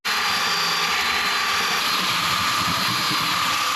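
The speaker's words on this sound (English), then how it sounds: "I'm just going to kind of smooth it in a little bit with the belt sander" A belt sander smoothing the edges of wooden boards for a DIY outdoor coffee table, a loud constant whine and rumble running without pause.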